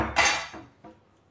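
A metal cooking pot is pulled out in a kitchen, giving a sharp clattering clank followed by a softer knock as it settles, short and close with no talking.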